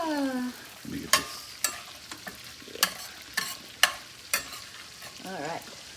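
Sizzling sauce in a hot pan with repeated sharp scraping and stirring strokes, close and busy, with a short whistling tone at the start.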